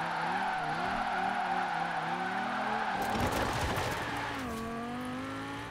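A TVR Griffith in Forza Horizon 4 drones at low revs, its engine tone rising and falling, with a brief tire squeal and gearshift rasp midway, then a steadier climbing note.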